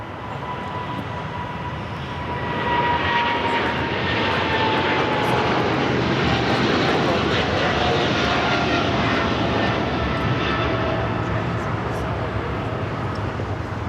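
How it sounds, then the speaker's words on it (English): A Boeing 777 freighter rolls down an LAX runway with a broad, roaring jet engine rumble that rises after the first couple of seconds and then holds loud and steady, heard from an outdoor spotting position. "777 freighter now rolling down to 25 left."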